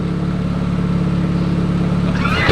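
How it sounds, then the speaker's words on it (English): A turbocharged K-series engine in a Scion FR-S hums steadily from inside the cabin, a rough, pulsing exhaust drone with turbo character, ending in a brief rushing hiss. "I love how much you hear the turbo in the exhaust though"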